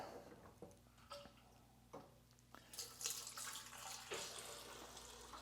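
Beer wort for a honey blonde ale being transferred, with soft liquid trickling and splashing that grows fuller and louder after a few quiet clicks and handling knocks.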